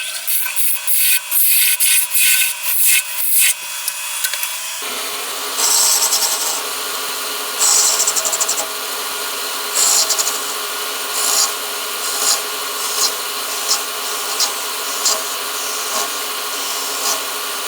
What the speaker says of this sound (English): switch on the lathe and take some of that wood away with the spindle gouge